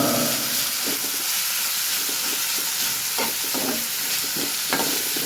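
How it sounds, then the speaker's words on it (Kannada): Onion and chillies fry in hot oil, giving a loud, continuous hissing sizzle. A spoon stirs and scrapes against the pan in irregular clinks and knocks throughout, with no talking. "ಈರುಳ್ಳಿ ಮತ್ತು ಮೆಣಸಿನಕಾಯಿ ಚೆನ್ನಾಗಿ ಫ್ರೈ ಆಗಬೇಕು"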